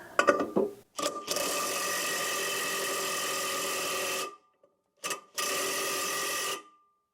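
A nut is tightened on a leaf blower fitted with a Predator engine, heard as loud, continuous ratcheting whirs of a power tool in two long bursts separated by a brief pause, close up.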